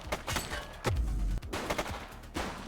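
Gunfire in The Precinct, a police video game: several loud, sharp reports in an irregular burst, with a heavier booming blast near the middle, all close and continuous.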